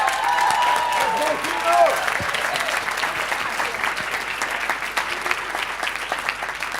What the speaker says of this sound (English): This one over here, give him a round of applause.